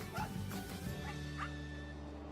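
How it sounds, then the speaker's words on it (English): A territorial dog aboard a river barge in Thailand gives several quick, yipping barks close by, with a steady engine drone running underneath. "First thing I saw when I get on the barge is a dog."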